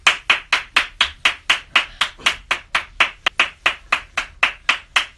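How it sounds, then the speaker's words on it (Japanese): An audience claps in a steady, even rhythm to welcome a guest onto a Japanese talk show, about sixteen sharp, evenly spaced claps over five seconds with no talk. "皆さん拍手で迎えてください。"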